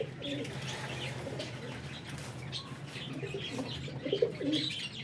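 Flying pigeons of good breeds kept for racing coo softly in low, throaty repeated calls, with scattered chirps and a brief flutter of wings over a faint background murmur.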